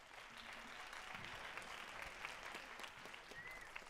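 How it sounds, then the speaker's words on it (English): Distant audience applause at a high school jazz concert, a steady wash of clapping hands that continues throughout without voices over it. "So let's give them a round of applause."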